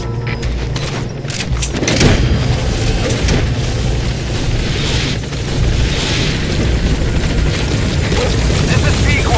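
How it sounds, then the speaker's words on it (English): Support helicopter arriving in Metal Gear Solid V: The Phantom Pain, a steady loud rotor drone with low thumping, a sharp boom near the two-second mark, and voices over the engine noise. "Support helicopter has arrived."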